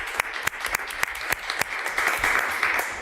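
Applause breaks out at a city board of aldermen meeting in Oxford, a few sharp claps building into steady, fairly close clapping from a small group for about three seconds.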